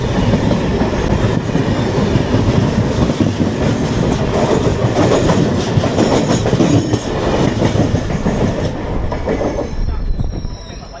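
A train rolls steadily along the rails, wheels rumbling and clacking with occasional squeals, loud and continuous throughout.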